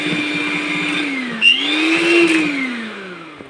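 An electric mixer whirring steadily through cake batter, a loud close motor whine that dips and rises slightly in pitch as the load changes, with no talking.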